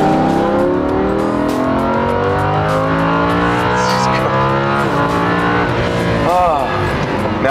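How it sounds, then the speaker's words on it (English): A 610-horsepower Lamborghini Huracan engine revs and accelerates on a racetrack, loud and continuous with rising and falling pitch sweeps through gear changes, heard under a voiceover. "in the brand new 610 horsepower Lamborghini Huracan"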